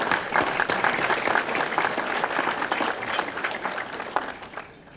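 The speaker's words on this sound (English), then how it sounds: "Give yourself a round of applause." A breakfast audience at a Saturday morning event applauds itself, a steady wash of clapping from many hands that holds through and tapers slightly at the end.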